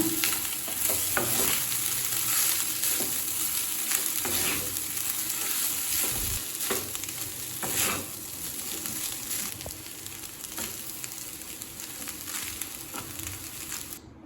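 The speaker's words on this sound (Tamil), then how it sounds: "இப்போ இதை நல்லா மிக்ஸ் பண்ணிக்கலாங்க." Cooked rice and ghee stirred together in a hot pan for a cabbage rice dish, with steady loud sizzling and repeated scraping strokes of a spoon throughout, no voices.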